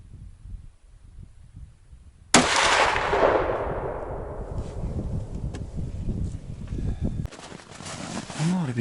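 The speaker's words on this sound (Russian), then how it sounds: "Сейчас еще один выстрел сделаю и уже буду стрелять со 100 метров" A single loud, sharp gunshot from a Los 7-1 carbine during zeroing cracks out and rolls into a long fading echo across open country, with quiet background noise before it.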